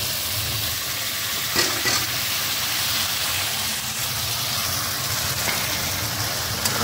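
Spice paste stirred into fried onions in a hot pan, giving a steady close sizzle and hiss with occasional scraping stirs throughout.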